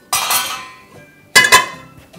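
Two clattering, metallic clunks a second apart as thick chunks of onion land in a cooking pot, each ringing briefly before fading.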